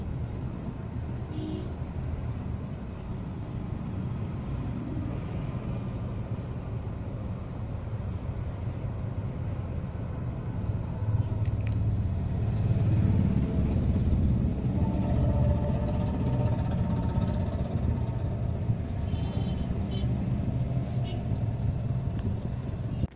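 Steady low engine rumble inside the cabin of a Maruti WagonR AMT, a constant drone that swells slightly midway, with no talking.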